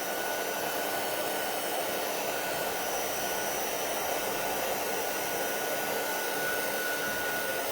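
A heat tool drying stencil paste on a card, blowing as a steady, loud, even airflow roar that runs unbroken throughout.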